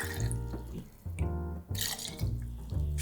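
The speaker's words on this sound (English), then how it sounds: "Then we're gonna add 100 ml of our pre-batch mojito." Pre-batched mojito poured into a glass holding a few mint leaves, a steady liquid splash with short pauses between pours, close and clear with no talking.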